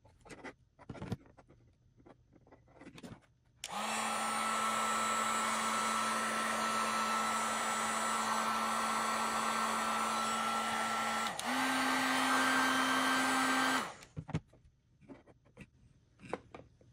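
A heat gun roars on for about ten seconds, a steady blowing hum that shifts pitch slightly partway through, while shrinking heat-shrink tubing over wiring in a headlight conversion, with quiet handling clicks before and after.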